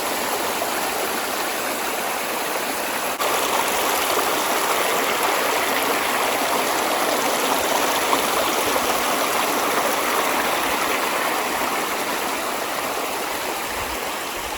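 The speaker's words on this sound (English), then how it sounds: "still here by the waterfall a little bit" Steady rushing of a stream and small waterfall, a continuous broadband wash of flowing water that stays close and even throughout with no voices.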